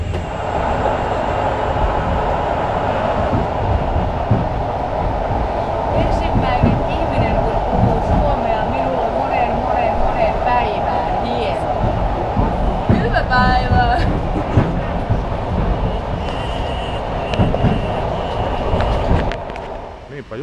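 A train rolls steadily along the rails to Terijoki, near St. Petersburg, with a constant rumble and rhythmic clatter, and murmured voices and brief squeals rise over it.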